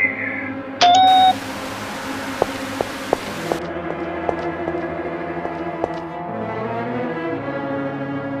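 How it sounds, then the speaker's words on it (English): A short electronic alarm tone sounds in a sci-fi stop-motion monster film aboard a spaceship facility, followed by a series of sharp clicks and a low humming drone. "Why have the alarms sounded?"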